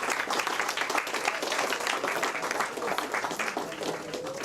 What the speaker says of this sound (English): Please put your hands together and cheer them up.